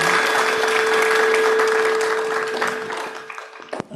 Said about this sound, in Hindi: एक बार फिर से ताली बजाइए।